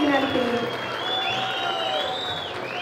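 Applause from an audience at a public event honouring Karnataka's chief minister: a steady, even wash of clapping with a faint crowd murmur, moderately loud and continuous throughout.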